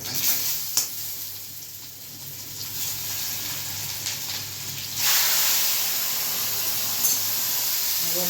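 Spices for a moong dish being tempered in hot oil for a vaghar sizzle and hiss softly in a pan, a quiet spatter that suddenly flares louder and brighter partway through and keeps frying steadily.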